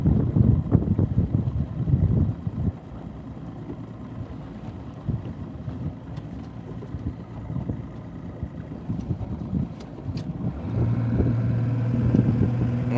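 A fishing boat engine idles on the water in the early morning, a low steady rumble with wind buffeting the microphone and some knocking at the start.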